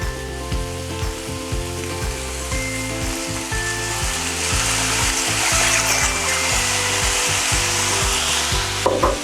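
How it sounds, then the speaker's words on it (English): Soy sauce sizzling loudly in a hot pan of soft, wilted zucchini and squash, a constant close frying hiss with rhythmic scraping strokes of stirring throughout. "I'm going to add the soy sauce. And you're going to hear it sizzle."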